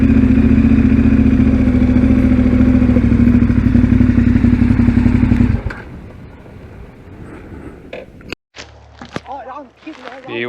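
A motorcycle engine idles loudly in a caravan park parking area, a rough, steady rumble that cuts off abruptly partway through, leaving quieter clatter, a sharp knock and a person talking.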